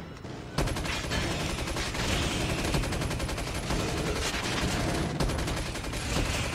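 A sentry gun in Call of Duty Mobile zombies mode fires continuous rapid automatic bursts, loud and dense, starting abruptly after a brief quiet moment and rattling on without pause.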